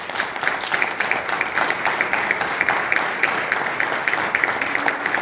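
A church congregation applauds during a Spanish-language service, a dense, steady wash of many hands clapping throughout, fairly loud and close, with no voices standing out.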